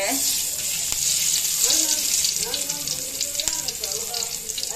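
Fresh sardines (boothai) frying in hot oil give a steady, loud sizzle that runs throughout, with a few soft clinks and stirring sounds and no talk.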